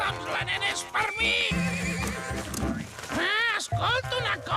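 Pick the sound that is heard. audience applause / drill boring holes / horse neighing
horse neighing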